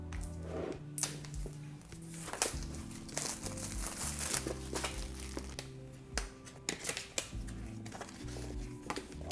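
Paper packaging of an Apple Watch Series 6 box, 43mm silver model, being unwrapped and handled up close, with soft crinkling, rustling and tearing in irregular bursts over a quiet backdrop and background music.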